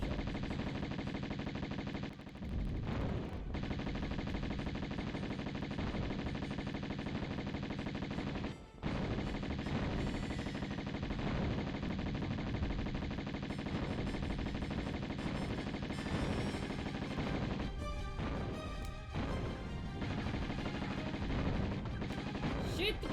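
Dense, sustained gunfire in the Tomb Raider video game, rapid bursts rattling almost continuously with brief gaps, loud and close throughout.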